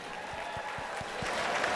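Applause from the audience at the Irish Post Awards 2019 ceremony, a soft, distant-sounding patter of many hands with faint low thumps, steady and unbroken across the short stretch.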